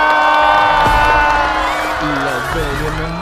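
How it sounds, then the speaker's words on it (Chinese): Studio audience at a Chinese stand-up comedy show cheering and whooping loudly, a dense continuous crowd roar with some clapping mixed in, with musical tones sounding underneath. "掌声有请"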